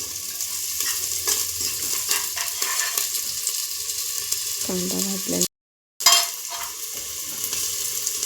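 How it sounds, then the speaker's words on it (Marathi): Onion, cumin, mustard seeds and whole spices fry in oil inside a pressure cooker, a steady close sizzle with stirring scrapes, broken by a brief silent gap before the sizzling resumes. "मी कुकर घेतला, त्यामध्ये तेल टाकून जिरं मोहरी खडा मसाला टाकला आणि कांदा पण टाकला."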